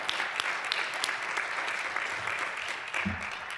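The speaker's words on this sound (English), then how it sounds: "Let's start off with a round of applause." An audience applauds at a community essay-reading event, a steady patter of clapping hands from a moderately sized crowd that continues throughout at an even level.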